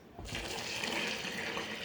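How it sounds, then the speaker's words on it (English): Milk pours steadily into water in a container, a continuous splashing rush lasting a couple of seconds. "I'm going to go ahead and pour it inside it"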